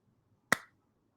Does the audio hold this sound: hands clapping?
yes